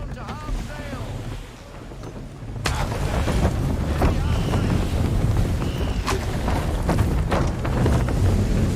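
A sailing ship at full sail in Assassin's Creed 3 surges forward with a loud, steady rush of wind and water that swells after a brief lull, along with creaks and splashing under the roar.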